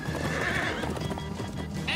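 Horses in the video game Minecraft: Story Mode clip-clop at a gallop while one neighs loudly, a busy burst of hoofbeats and whinnying heard alone.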